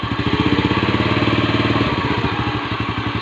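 A Honda Astrea Grand motorcycle engine runs close by with a fast, steady pulsing putter, rising into a rev and then settling back, with no voices.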